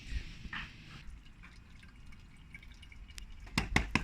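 Coolant flush liquid is poured into the coolant tank of a Ford Fiesta ST, producing a faint, soft trickle with light drips, followed by a few sharp clicks near the end.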